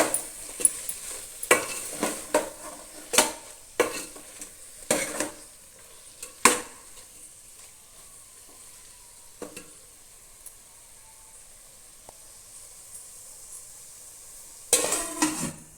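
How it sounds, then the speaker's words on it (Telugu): Chili powder is stirred into Telangana-style sambar in a pan, with a spoon scraping and clinking in short bursts, falling quiet in the middle and then returning with a final cluster of loud strokes near the end. "కారం వేసుకొని మెల్లగా కలుపుకుందాం"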